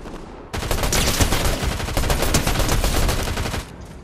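A sustained burst of rapid automatic gunfire in Fortnite, loud and dense for about three seconds before cutting off abruptly.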